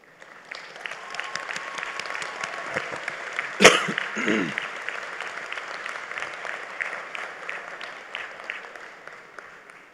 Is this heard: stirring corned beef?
no